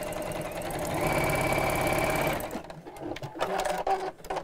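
Sewing machine stitching down the sides of a rope-handle bag, a fast steady whirring run that stops partway, leaving softer handling noises.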